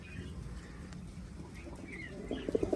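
Pigeons coo softly, with a few low, throaty pulses near the end over a quiet background murmur.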